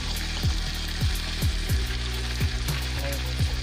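Beef bologna and onion frying in a pan, a loud continuous sizzle close by, broken by regular thumps and scrapes of a utensil stirring the food.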